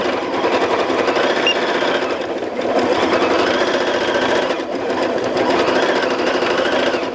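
A home sewing machine running with a stitch regulator while free-motion quilting a meandering pattern, a continuous rapid mechanical whir and clatter at close range, steady throughout with slight dips in speed and no talking.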